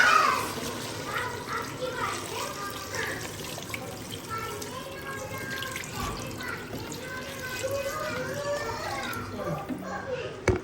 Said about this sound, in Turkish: Şimdi içine yeterli kadar su döküyoruz.